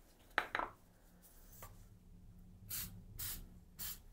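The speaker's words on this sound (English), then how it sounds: "put a little activator down in the area I'm going to be gluing stuff so it just sticks right away" Glue activator is sprayed onto a small prop in several short hissing bursts, two quick sharp puffs followed later by three longer sprays, with faint handling clicks in a quiet room.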